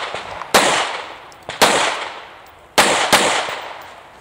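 Four loud, sharp gunshots ring out at an outdoor IDPA defensive shooting match, spaced unevenly with a long echoing decay after each, in two pairs, with nobody talking.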